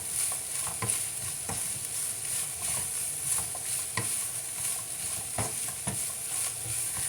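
Onions and ground meat stirred together in a frying pan, soft continuous sizzling broken by repeated scraping strokes of a spoon at a loose, uneven rhythm, close and moderately quiet.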